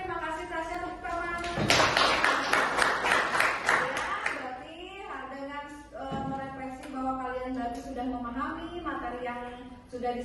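An audience at a Pancasila ideology training session bursts into applause, a dense burst of clapping lasting a couple of seconds before fading out, with someone speaking before and after it.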